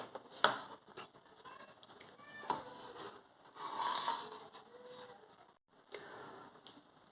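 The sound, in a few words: scissors cutting blouse fabric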